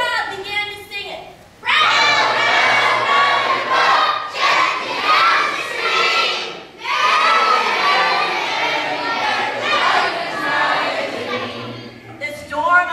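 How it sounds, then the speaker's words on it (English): A large crowd of children at a vacation Bible school sings Row, Row, Row Your Boat together, a loud, shouty chorus in sustained bursts with brief pauses between phrases. "The tune was so catchy that the entire crowd began to sing it."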